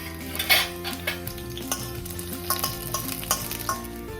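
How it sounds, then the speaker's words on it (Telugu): Garlic cloves frying in hot oil in a kadai, a lively crackling sizzle broken by several metal spoon scrapes and clinks against the pan, close with no talking. "నూనె కాగాక ఈ వెల్లుల్లిపాయలు వేసుకుందాం"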